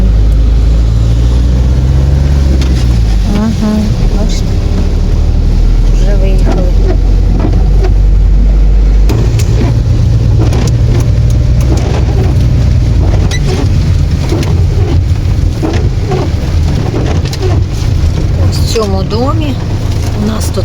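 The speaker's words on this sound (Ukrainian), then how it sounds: "Ще в таку зливу ми не попадали." A heavy downpour is heard from inside a car: a dense, loud roar of rain and road noise continues throughout, with people talking over it.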